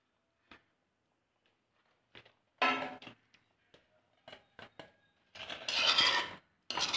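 A spoon stirs chili powder into mutton gravy in a home kitchen pan, producing intermittent scraping and rubbing strokes of varying loudness, growing busier and more continuous toward the end.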